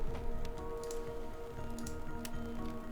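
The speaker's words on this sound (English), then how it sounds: "Warm rain seeped from the sky like blood from an old wound." Warm summer rain falling on a dark night in the game Hooked on You, a faint steady patter of drops with occasional sharper ticks under a soft musical drone.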